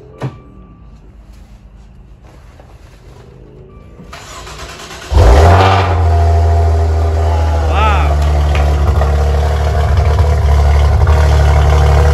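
A Maserati Ghibli, freshly fitted with a new battery, cranks briefly and then fires up, settling into a loud steady idle close by after several seconds of quiet shuffling.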